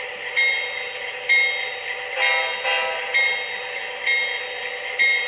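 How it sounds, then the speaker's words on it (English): A small model train horn sounds in short repeated toots at a steady rhythm, bright and close, over a low electric hum. "Let's run some trains."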